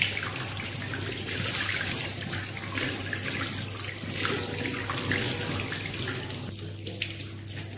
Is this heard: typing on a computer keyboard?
no